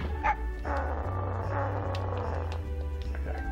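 Dog barking in the Mega Man 64 video game, a few short yips over steady game background music and low tones, heard close with no talk.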